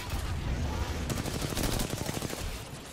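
Rapid bursts of minigun fire in Apex Legends, loud and close, rattling in quick repeated volleys over about two seconds.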